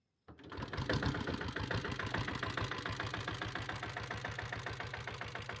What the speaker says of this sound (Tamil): அப்படியே இந்த வண்டி உங்களுக்கு கிக் ஸ்டார்ட் பண்ணி காமிச்சோம் பாருங்கள்.